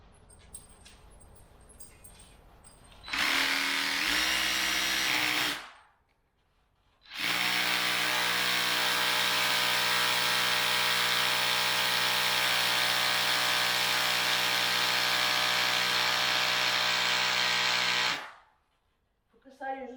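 A power drill bores through material during home and garden building work, whirring loudly in two bursts of about two and eleven seconds, with quiet pauses between and people talking softly before it starts.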